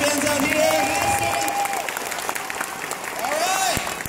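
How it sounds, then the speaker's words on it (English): A convention hall crowd at San Diego Comic-Con applauds the My Little Pony panel and fans, loud sustained clapping mixed with cheers, whoops and a few shouting voices, easing slightly before swelling again. "can we give one more big round of applause to our awesome pony people up here?"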